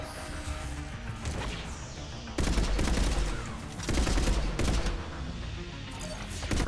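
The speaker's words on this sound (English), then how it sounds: "Freaking love this assault rifle" Assault rifle fire in Mass Effect Legendary Edition, dense loud automatic bursts mixed with crashing impacts and explosions from a firefight against Geth.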